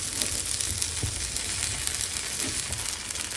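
Appe dumplings frying in a pan give off a steady, close sizzle with faint crackles and a few soft stirring knocks, no voices.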